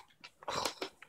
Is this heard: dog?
yes